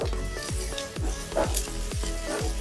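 Sliced onions fry with curry leaves in a pan for egg curry, a soft steady sizzle running beneath a rhythmic beat of background music.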